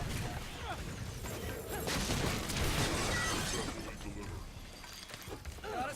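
A frozen enemy shatters in the video game Sunset Overdrive, a burst of icy breaking and crunching debris over busy game noise, with a brief swell of crashing in the middle.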